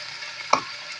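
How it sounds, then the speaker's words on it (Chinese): Pork strips stir-fry over high heat with a soft continuous sizzle and one sharp scrape of a utensil midway. "大火炒肉絲2分鐘"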